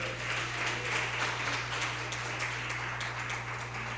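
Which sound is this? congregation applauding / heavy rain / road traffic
congregation applauding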